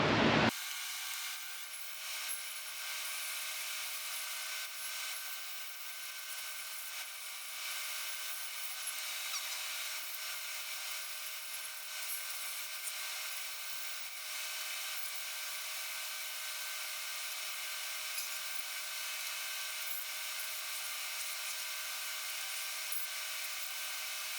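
A continuous high-pitched whir of a spinning lathe with abrasive hiss from sanding wooden wine stoppers, steady and unbroken for the whole stretch.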